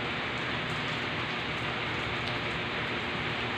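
Heavy typhoon rain pours steadily with gusting wind, a dense, unbroken hiss of close downpour with no voices.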